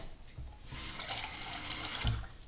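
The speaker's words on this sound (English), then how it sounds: "I'm going to add a little bit of water because I want it to cook for maybe an hour." Water pours into a pot of tomato sauce, a short close gush and trickle lasting a couple of seconds, with a few soft clunks around it.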